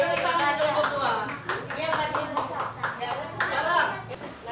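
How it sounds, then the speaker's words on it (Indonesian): Children clap for a group in a classroom, rhythmic bursts of hand claps mixed with young voices talking and chuckling over them. "Tepuk tangan kelompok 2."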